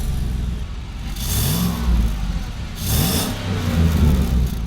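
The 6.2-liter V8 of a 2014 Chevrolet Silverado High Country pickup revs in repeated swells, a loud, close engine roar rising and falling without any talking.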